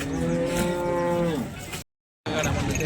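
At a village cattle market, a cow lets out a long, loud, close moo, then a brief silence before crowd noise returns.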